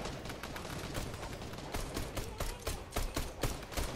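Rapid video game gunfire in an arena match: dense, continuous crackling shots with sharp bursts that grow louder toward the end, heard alone without talk.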